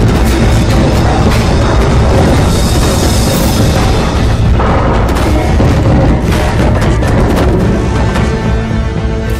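Ship cannons fire in a war movie battle scene, heavy booms piling into a loud, dense, continuous barrage with sharp crackling blasts throughout.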